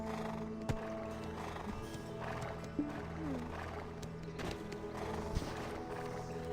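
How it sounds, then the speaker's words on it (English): A horse in the game Black Desert gives a faint whinny amid a soft ambient game soundscape, with a few quiet thumps and no clear speech. "oh, my horse"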